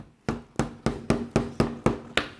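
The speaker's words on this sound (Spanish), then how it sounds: "Tuve que darle un buen martillazo de goma." A rubber mallet strikes a McFarlane Toys action figure part in eight firm, evenly spaced blows, each a dull thud with a short decay, close and alone.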